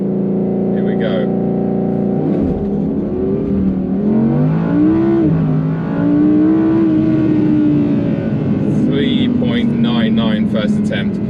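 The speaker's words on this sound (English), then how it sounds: "launch control in the R8 rear wheel drive" Audi R8 rear-wheel-drive launch-control start: a loud engine revs and holds, then surges with rising, bogging acceleration tones close by, with a person talking over it throughout.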